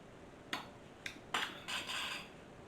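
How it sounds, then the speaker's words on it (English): Metal utensil knocking and scraping against a pot of Swiss potato soup, a few sharp clinks followed by a longer scrape, close and fairly quiet with no talk. "once it boils, I'm gonna kind of scrape the bottom of the pot to get all those delicious little yum yums up"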